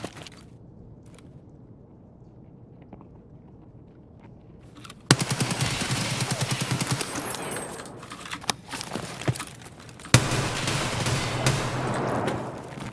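AK rifle fire in a first-person shooter game set in a factory: a quiet stretch, then a sudden long burst of rapid automatic shots, scattered single shots, and another dense burst near the end.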